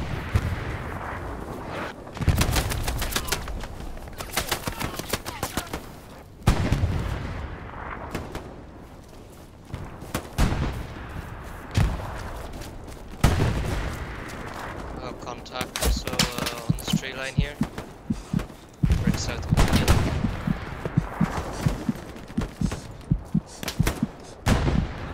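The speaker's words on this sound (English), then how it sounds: "some goddamn machine gun that's killing everybody on the right side" Dense gunfire from a Hell Let Loose battle at Sainte-Marie-du-Mont, with repeated bursts and sharp cracks running throughout, loud and close, mixed with the game's battlefield din.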